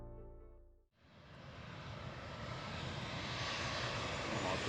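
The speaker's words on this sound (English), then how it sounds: "This Boeing descends unusually close to the ground, landing well before the designated touchdown zone." A Boeing airliner descending unusually low to land short of the touchdown zone roars loudly and steadily, its engine noise swelling after a brief tonal lead-in.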